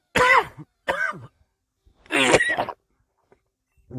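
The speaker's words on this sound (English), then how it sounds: "I wonder what could be making me cough like that." Three harsh coughs in quick succession, close and loud, the first two short bursts followed by a longer, rougher one after a pause, with no talking around them.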